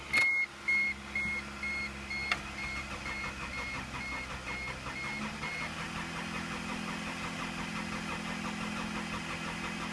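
A Toyota Corolla fresh from a tune-up cranks and fires, with a few sharp beeps right at the start, then settles into a steady mid-pitched idle heard close up.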